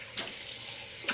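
Hot water runs from a tap into a sink during a morning shave, a soft steady flow with two brief splashy bursts.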